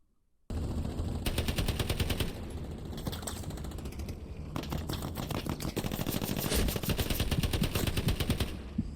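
World War II gunfire in the shooter game Hell Let Loose: rapid automatic bursts crackle loud and close in dense rattling strings, with a brief pause between volleys.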